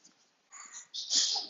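A person sneezes indoors, a short breathy burst with a sharp hiss that swells and fades within a second or two, close and fairly quiet.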